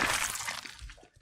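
A crowbar strikes a zombie in the survival game Project Zomboid, a crunchy, breaking impact with cracking texture that fades quickly to quiet.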